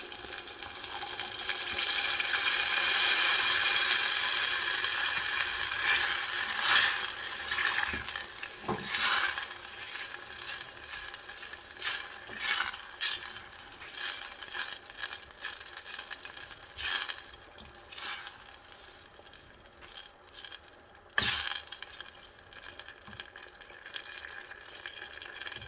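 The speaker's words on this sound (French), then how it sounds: "Ensuite, je rajoute mon coulis de tomates" Tomato coulis poured into a hot pan for Egyptian kochari, giving a steady watery sizzle and hiss with scattered crackles and spits. No one speaks.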